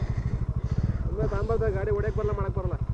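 A motorcycle engine labors with a rough, fast, close thudding throb. A voice speaks over it partway through.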